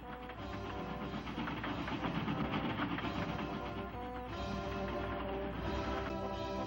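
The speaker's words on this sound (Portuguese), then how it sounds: "Gente, aí vem o trem." A train rumbles in with a steady, dense mechanical clatter and hiss, a held horn-like tone running through it, moderately loud and continuous throughout.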